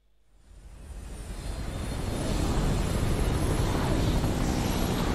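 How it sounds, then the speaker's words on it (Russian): An Umbrella helicopter from the video game Resident Evil Code Veronica: a rotor and engine roar swells from silence over about two seconds, then holds as a loud, steady, dense drone. "Вертушка, амбрелловская вертушка."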